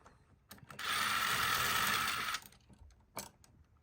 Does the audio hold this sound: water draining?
no